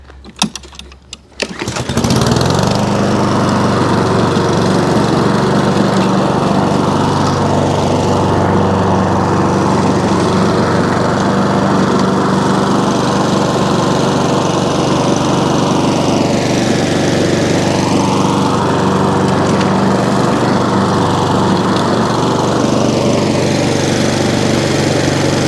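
A Husqvarna HU700F lawn mower, just repaired after a drive cable fault, starts with a short sputter, then runs loud and close with a steady engine drone whose pitch dips and recovers a few times.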